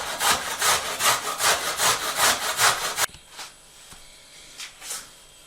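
An onion is cut on a board for frying: quick, even rasping knife strokes, about ten in three seconds, loud and close. They stop abruptly, leaving a few faint taps in a quiet room.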